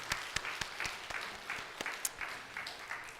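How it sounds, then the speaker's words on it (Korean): A church congregation at a Sunday morning service claps in an uneven, fairly faint rhythm, with sharp individual claps standing out from the softer group sound. "영광의 박수로 먼저 하나님께 영광을 돌립시다."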